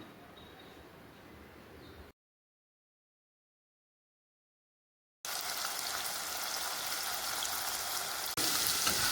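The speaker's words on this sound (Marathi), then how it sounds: "आता आपण वाटलेला मसाला तेलात टाकूया." Ground masala paste drops into hot oil with cumin, mustard seeds and curry leaves for a potato and pea curry. After a brief silence, a loud, continuous hissing sizzle takes over and grows stronger at the end.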